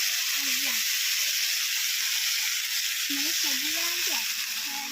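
Onions frying in a pan for an egg curry, a steady loud sizzle throughout with brief tonal whistles under it and no talk.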